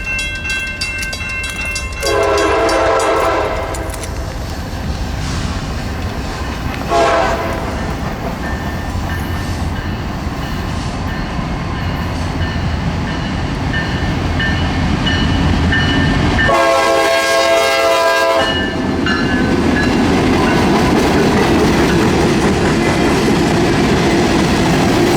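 A pair of rebuilt locomotives hauls a train along the old Atlantic Coast Line main line in Florida, with loud horn blasts, a rumbling diesel engine and wheels clattering over the rails, all close by and continuous.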